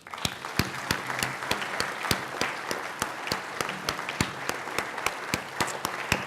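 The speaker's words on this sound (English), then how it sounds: "Please join me in applauding and welcoming here tonight" An audience at a Holocaust conference applauds to welcome an honoree, with steady clapping and sharp individual claps standing out near the front, with no voices over it.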